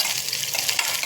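Coconut oil sizzles and crackles in a pan during milk payasam preparation, a dense, close frying hiss with small scattered pops.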